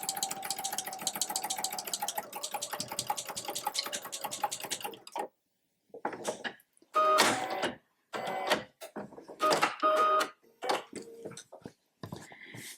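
A sewing machine stitches a tote bag in a rapid, steady mechanical patter for several seconds, then breaks into short stop-start bursts separated by brief silences, with no voices.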